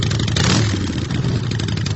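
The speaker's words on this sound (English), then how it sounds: "that was that big motorcycle sound" A big motorcycle engine revs up loudly nearby, a rough, throaty burst that swells and then settles into a clattering, pulsing run.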